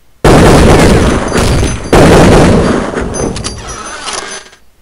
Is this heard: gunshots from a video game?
yes